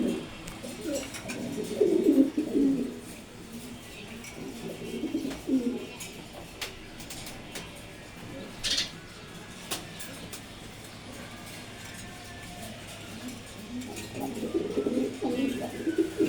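Male racing pigeons kept in a rest loft, soft low cooing in several repeated bursts, near and moderately loud, with quieter gaps between and faint background sounds.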